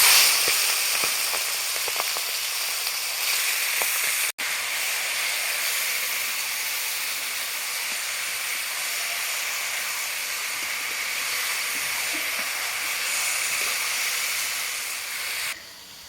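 Marinated chicken, with bay leaf and dry red chilli, hits a pan over a clay earthen stove, giving a loud, steady sizzling hiss that holds for the whole stretch with a brief break near the start.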